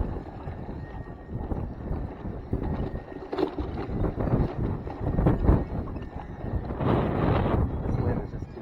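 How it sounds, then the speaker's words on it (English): Strong, gusty wind buffeting outdoors during a run, a loud fluctuating roar with rumbling microphone noise and a few faint voices mixed in. "this wind is just too crazy today"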